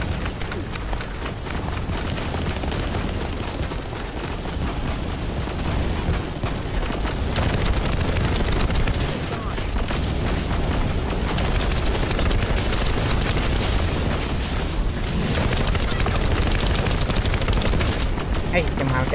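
Sustained enemy gunfire in The First Descendant's Pyromaniac Intercept Battle, a loud unbroken barrage of rapid shots and explosive rumble lasting the whole stretch, with a player's voice talking now and then beneath the din.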